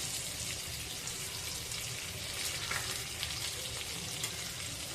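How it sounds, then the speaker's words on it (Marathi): Pieces of jitada fish sizzle and crackle steadily in hot oil in a kadhai, a dense continuous frying hiss that stays close and fairly quiet, with no talk. "अशाने सर्व तुकडे व्यवस्थित फ्राय होतात."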